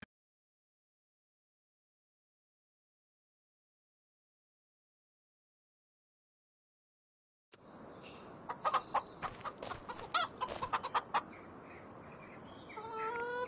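Chickens cluck and squawk in Farming Simulator 25, on the Riverbend Springs map, after a long silence. Repeated close clucks and short calls come over steady farmyard ambience during the second half.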